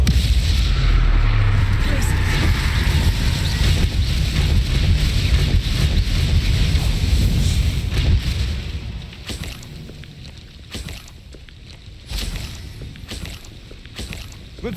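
A Confringo blasting spell explodes in Hogwarts Legacy, a loud, booming blast that rumbles for several seconds, then fades into scattered crackles and smaller impacts.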